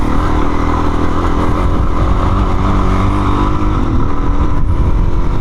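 A Suzuki DRZ 400 dirt bike rides off-road through a rock garden, with a loud steady engine drone and rattling clatter from close by, with no talking.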